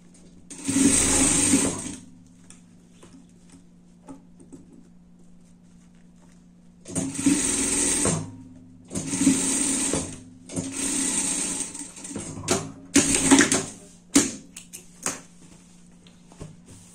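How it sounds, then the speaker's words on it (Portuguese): Sewing machine stitching the skirt of a Halloween pumpkin dress, running in several loud bursts of steady whirring with short pauses between, the longest runs near the start and a cluster of shorter stops and starts toward the end. "Comecem a costurar onde começa a saia, tá?"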